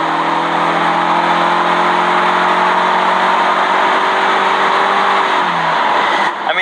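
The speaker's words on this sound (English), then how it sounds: "This engine kicks on almost immediately." A car engine accelerating hard from a standstill toward 60 mph, loud and close, with the engine note climbing steadily and then easing off at the end, no talking.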